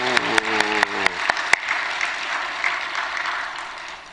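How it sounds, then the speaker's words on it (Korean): A church congregation claps during an early-morning prayer service, a few sharp claps at the start swelling into dense, sustained applause that stays strong and even through the clip, with a hint of voices underneath. "박수!"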